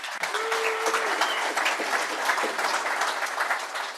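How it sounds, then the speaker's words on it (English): A conference audience at a high-speed rail session breaks into steady, dense applause that holds at an even level for several seconds, with many hands clapping together and no voices over it. "So give them a round of applause."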